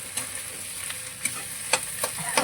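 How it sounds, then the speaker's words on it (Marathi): Boiled potato vegetable being stirred and sautéed in a pan, a steady soft sizzle with occasional sharp scraping clicks of the spoon against the pan, close and moderately quiet, no voices. "इथे छान मस्त अशी भाजी परतवून घ्यायची."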